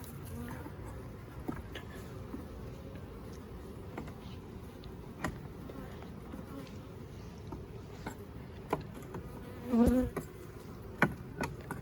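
Honey bees from a newly arrived swarm in a top bar hive buzz steadily throughout, with sharper close passes of individual bees and occasional clicks and taps of hive frames being handled.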